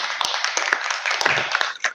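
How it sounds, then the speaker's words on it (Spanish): Brief burst of applause from a small crowd, claps dense and overlapping at moderate loudness. "Un aplauso para ambos, por favor."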